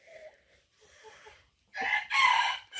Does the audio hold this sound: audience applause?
no